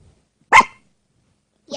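A puppy indoors gives one sharp, loud bark, then falls silent before a second bark starts just as the sound ends.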